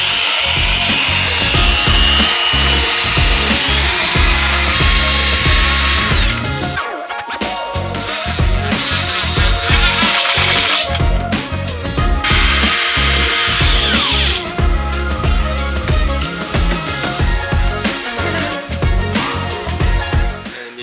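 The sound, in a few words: drill driving screws into plywood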